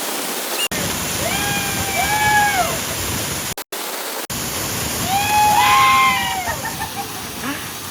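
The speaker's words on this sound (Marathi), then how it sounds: "चालू झालंय ना धबधबा" A continuous rushing roar of falling water, with excited voices calling and shouting over it and a brief cut in the middle.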